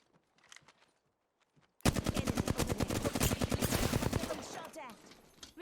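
Apex Legends gunfire erupts suddenly after a quiet stretch: a rapid automatic burst of close, sharp shots lasting a few seconds, then tapering off, with faint game voice lines near the start.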